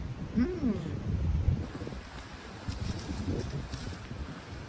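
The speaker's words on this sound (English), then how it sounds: "The wind is so strong today." Strong gusting wind buffets the microphone at a mountain vista on Little Rock Knob, Iron Mountain, a steady loud roar with rising and falling gusts and no clear speech.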